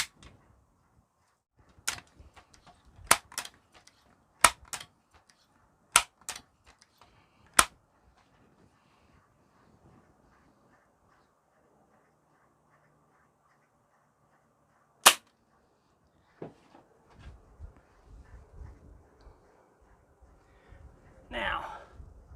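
A Crosman Legacy 1000 air rifle, pumped four times, fires heavier pellets into wood: a run of sharp, close cracks and clicks, then a long quiet gap, one more loud crack, and soft handling noises.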